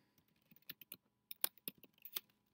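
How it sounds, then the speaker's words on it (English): Light, sparse taps on a computer keyboard as a name is typed into a registration page, close and quiet, in short irregular bursts against near silence. "You will type in your name."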